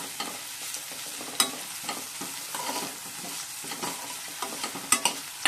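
Curry leaves crackling in hot oil for a South Indian-style rasam, a steady close sizzle with bursts of popping and occasional sharp spatters, no voices.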